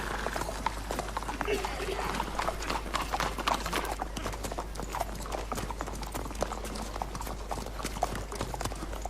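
Horse hooves clip-clop steadily on a road in The Witcher 3, a continuous rhythmic run of hoof strikes close by, with game voices talking over parts of it.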